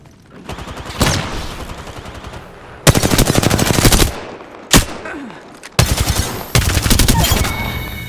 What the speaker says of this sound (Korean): 아왜 이렇게 막 쏘냐?